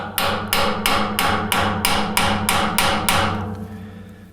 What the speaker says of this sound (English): I think we just have to drive that down out of the bevel gear.